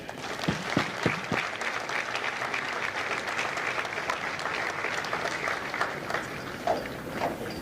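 Audience applause fills a Marine Corps recruit graduation at MCRD San Diego, a steady, sustained wash of clapping from a large crowd with a few sharper claps near the start.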